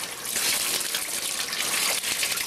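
Water pours steadily over a child's head and red hair during an indoor hair wash, a continuous close splashing gush with no talk.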